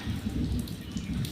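Heavy rain pours down outdoors, a dense, steady hiss of falling water at a fairly low level with no voices.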